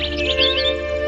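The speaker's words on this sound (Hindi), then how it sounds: "दूर से आती है चिड़िया की आवाज।" Bird chirping in a calm garden scene in a Hindi-dubbed Doraemon cartoon, a quick run of high, bright tweets over a steady humming background, light and brief rather than loud.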